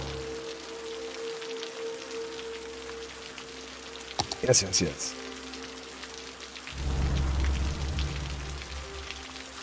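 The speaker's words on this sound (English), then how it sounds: "Man, it's like rained forever here." Steady rain falls in the city-building video game Cities: Skylines, a soft continuous hiss under a brief burst of talk, followed by a low rumble of thunder swelling toward the end.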